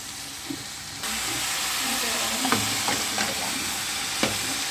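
Broccoli goes into a pot of sautéing big onion: a sudden rise into a steady sizzle and hiss, with a few sharp clinks of a spoon against the pot.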